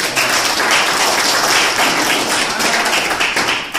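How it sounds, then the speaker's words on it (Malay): Audience applause for a guest speaker at a group closing event, a dense, steady wash of clapping that stays loud and even throughout. "bagi tepuk tangan untuk Tuan Din, speaker yang hebat hari ni"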